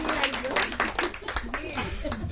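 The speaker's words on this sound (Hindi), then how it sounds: "एक बार फिर से जोरदार तालियां होगी" An audience claps at a live tribute music program, a brisk run of close, uneven handclaps with a voice speaking over them.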